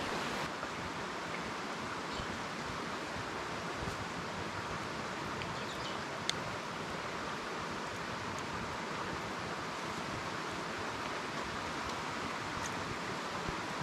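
A small mountain creek in the Tasmanian wilderness near Frenchmans Cap flows steadily, a soft continuous wash of running water, fairly faint and unbroken, with no voices.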